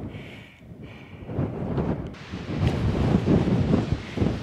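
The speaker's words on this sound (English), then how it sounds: "it's definitely cold and chilly and windy up here" Strong gusty wind on an Appalachian Trail mountain top buffets and roars across the microphone, rising louder after the first second and staying rough and steady, with no voices.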